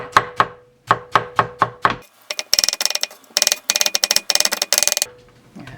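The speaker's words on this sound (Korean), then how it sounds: "잘게 채를 쳐줘야 감자가 빨리 익습니다" A knife julienning potatoes into fine strips for stir-fried potatoes knocks on a cutting board, first in evenly spaced single chops, then in rapid bursts of quick, crisp taps, close and loud.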